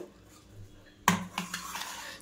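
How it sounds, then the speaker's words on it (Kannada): A single hard clunk as a mixer grinder jar is set down on a counter, followed by a few lighter rattles and taps. "ಫಸ್ಟು ನಾನಿಲ್ಲಿ ಒಂದು ಮಿಕ್ಸಿ ಜಾರ್ ತೊಗೊಳ್ತೀನಿ"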